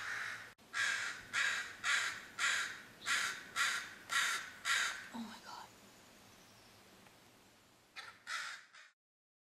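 A crow near a bald eagle caws about a dozen times in a steady, evenly spaced series, then pauses before two more caws. The calls are moderately loud and there is no talking.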